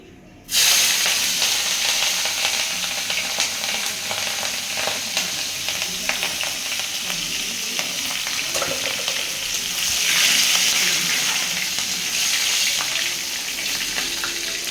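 Chillies sizzle and crackle in hot oil already used for frying fish, a loud, close, continuous frying hiss with occasional stirring, no voices over it.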